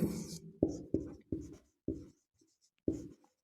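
Writing on a classroom board during a lesson: about six distinct, sharp strokes in an irregular rhythm, each a brief scrape or tap separated by short silences.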